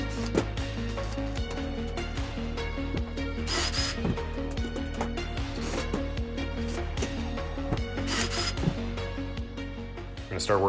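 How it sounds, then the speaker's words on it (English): Match drilling through aluminum aileron spar holes on a RANS S-21 kit aircraft, the drill whirring steadily and continuously close by, with music-like tonal background throughout and a few brief bursts of higher-pitched grinding. "now I can go ahead and match drill through the spar holes"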